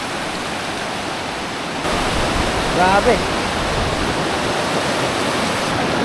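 River flowing in the rain in Misamis Occidental, a broad continuous rushing roar that grows louder partway through as a voice briefly exclaims over it.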